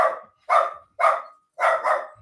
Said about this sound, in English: anyway, dogs are going nuts.